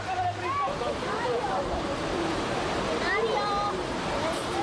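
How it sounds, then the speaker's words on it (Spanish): Water spills continuously from a city fountain in Valencia representing the Turia river, a steady splashing rush with faint voices and other street sounds scattered over it. "una fuente derrama las suyas"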